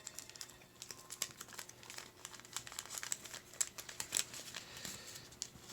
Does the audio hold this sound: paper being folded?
yes